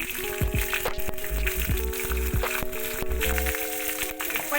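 Fennel seeds and green chillies hit hot oil with a loud, steady sizzle and crackle, with a few clinks of a utensil against the pan, close and without talk.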